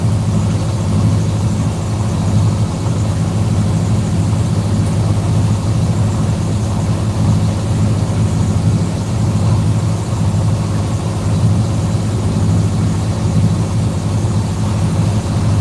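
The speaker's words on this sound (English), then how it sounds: "We are going a bit slower, so we do need to bring up the RPMs." On a passage to Lombok, Indonesia, a boat engine turns at low revs in a steady, loud, low rumble that continues evenly throughout with no other sounds standing out.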